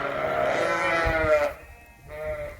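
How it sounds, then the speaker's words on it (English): Sheep bleat in a nearby flock on a sheep farm, several overlapping calls with a second bleat after a brief pause. "these on the right side are all the sheep that go to the pasture"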